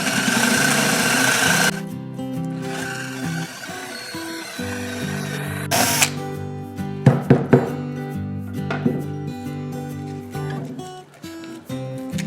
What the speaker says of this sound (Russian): Берем уже побольше сверло. Также просверливаем отверстие.